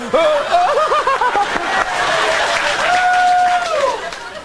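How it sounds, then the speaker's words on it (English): Sparse, weak applause from a late-night television studio audience, mixed with scattered chuckles and laughter, while someone speaks over it with animated, sing-song intonation. "The pity applause came in."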